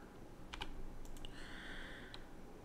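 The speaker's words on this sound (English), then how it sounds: "press the E in my keyboard for extrude" A computer keyboard is typed on at close range in a 3D modeling session: a few quick clicky keystrokes in small clusters over a faint background hum, with a brief electronic tone midway.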